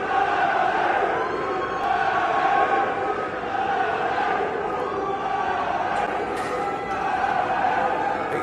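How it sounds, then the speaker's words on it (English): A large football crowd greets Liverpool's team bus arriving at Newcastle with sustained booing, a dense steady roar from many voices that continues without a break. "A lot of boos for Liverpool"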